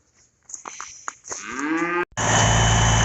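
Cows on a farm let out a loud, drawn-out moo with a rising bellow, followed by a sudden break and then a steady engine roar close by.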